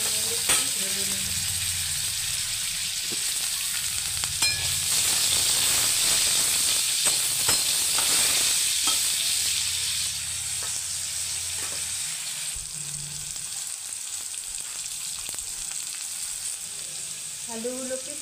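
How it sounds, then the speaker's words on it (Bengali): Potatoes fry with salt and turmeric, a steady hissing sizzle with intermittent spatter pops and stirring clatter, softening somewhat in the second half. "এখন আলু দিয়ে দিয়েছি, আলুগুলো অল্প নুন হলুদ দিয়ে ভেজে নেব।"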